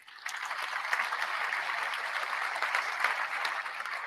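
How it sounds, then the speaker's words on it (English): An audience applauds a guest at the close of a live conversation event, a dense burst of clapping that swells quickly and holds steady for several seconds before easing off. "we close with an applause for our guest"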